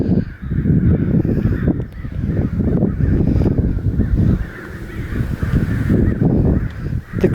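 Many crows caw loudly and continuously near a grain mill, a dense, raucous chorus of overlapping calls that stays strong throughout with no pause, carried over outdoor background noise.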